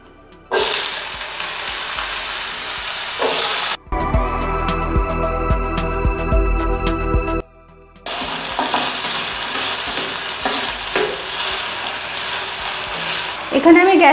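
Thinly sliced potatoes fry in white oil in a pan over a medium gas flame, a loud steady sizzle broken by a clattering stretch of stirring and a short pause.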